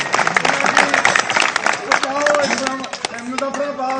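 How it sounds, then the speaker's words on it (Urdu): Audience applause at a meeting at Harchial House, with a continuous patter of many hands clapping close by and a voice speaking loudly over the crowd noise. "تالیاں میں بجائی کھڑو، کنجوسی نہ کرو۔"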